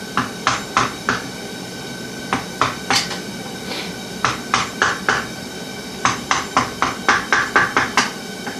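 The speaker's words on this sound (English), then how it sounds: "Now we're going to take our screwdriver and a hammer and just tap down about 3 of those tabs." Sharp metallic taps of a hammer striking a screwdriver to bend down lock tabs on a boat's propeller during lower unit service, coming in quick bursts of two to five blows with short pauses, close and clear.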